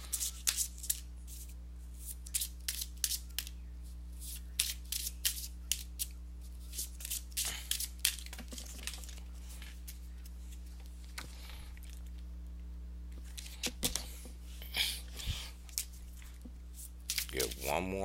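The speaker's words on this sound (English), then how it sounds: "let me go ahead and give these cards a shuffle" Tarot cards shuffled by hand, repeated soft slaps and riffles in irregular bursts over a steady low electrical hum.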